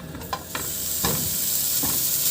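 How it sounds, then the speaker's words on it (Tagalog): Strips of bacon fry in a dry pan with no oil added, a steady close sizzle with a few brief clicks and pops, no talking. "Iprito ko na tong bacon na hindi na ako naglagay ng mantika"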